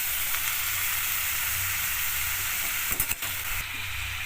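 Banana flower frying in a pan gives a steady loud sizzle, broken by a brief clatter of stirring near the end.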